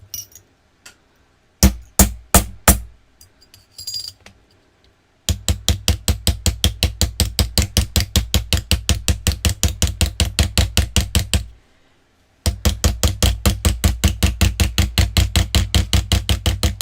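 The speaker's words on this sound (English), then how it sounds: "Now, as I'm hammering" Sharp metal hammer strikes on metal jewelry components at a bead table, first a few isolated blows, then long runs of rapid, evenly spaced taps with a brief pause between, close and loud with no talking.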